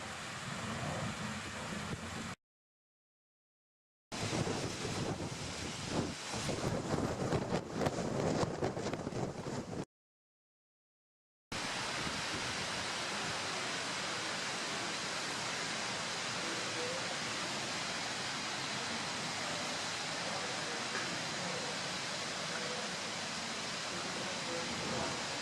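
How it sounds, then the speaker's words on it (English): Water rushes into a mill's water wheel in a constant broadband roar, close and steady, broken by two short gaps of silence. "That would be your water coming into your water wheel"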